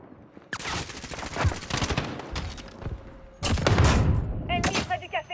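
A FAMAS rifle fires in Call of Duty Modern Warfare in long, loud automatic bursts with clattering echoes. A brief pause and heavier bursts follow, then a few trailing shots, with game voices faintly underneath.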